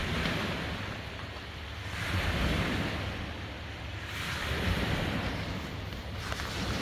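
Ocean surf rolling onto a shore, a soft broad wash that swells and recedes in two slow surges, fairly distant and mixed with light wind buffeting on the microphone.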